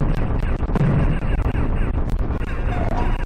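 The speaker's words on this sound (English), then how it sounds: "All kinds of explosions and giblets." Explosions burst in the DOS game Alien Rampage, loud crunchy blasts and gunfire-like cracks following one another rapidly in a dense, chaotic stream.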